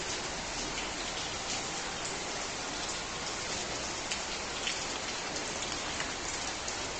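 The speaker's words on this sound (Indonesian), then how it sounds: "Kita hujan-hujan guys." Heavy rain pouring outdoors in Nganjuk, a thick unbroken hiss of drops striking the ground and nearby surfaces, loud and close for the whole stretch, with no voices.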